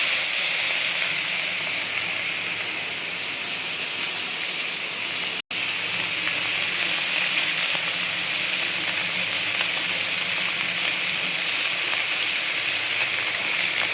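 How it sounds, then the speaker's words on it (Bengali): Mola carplet fish sizzling in hot oil, a loud, steady hiss and crackle that runs almost unbroken except for one momentary dropout. "এবার আমি মাছটা তেলের মধ্যে দিয়ে দেবো।"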